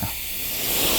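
A steady, loud hiss of compressed air escaping from an FX Maverick air rifle reservoir, continuous and building slightly over about a second.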